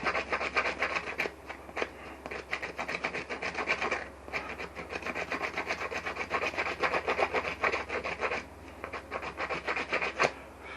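A rock dry-scrapes a whitetail deer leg hide in repeated rough, rasping strokes, close and fairly loud, with short pauses between bursts and no talking.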